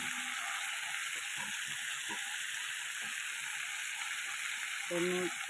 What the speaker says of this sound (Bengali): এগুলো ভালো করে একটু ভেজে নিলাম